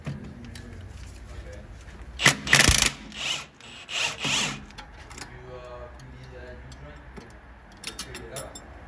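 An impact wrench fitted with a T40 bit and set to tighten works on a BMW sway bar end link, held with an 18 mm combination wrench. It gives a few short, loud mechanical bursts with quieter ratcheting and rubbing between them.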